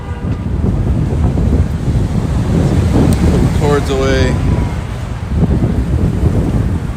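Heavy wind buffets the microphone in a constant low roar outdoors in front of a courthouse in Chicago, Illinois, during a protest, while a voice speaks briefly over it.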